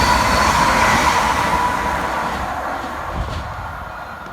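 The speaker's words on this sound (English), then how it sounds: "Next train to pass through the station is 418, working 2 Lima 77 from Peterborough through to Ipswich" A train passing through Thurston station on the Peterborough to Ipswich line, a loud close rumble and rush of wheels that slowly fades as it moves away.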